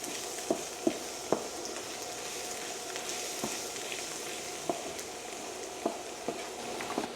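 Keema and bitter gourd (karela) frying with red chillies and spices in a pan, a steady soft sizzle with occasional sharp clicks and taps of stirring, fairly quiet and with no talk.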